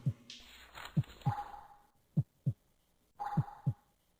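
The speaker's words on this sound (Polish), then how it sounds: "już gdzieś bije serce" A heartbeat in The House horror video game thumps in deep, close double beats, a few pairs spaced irregularly, with a faint airy sigh drifting between them.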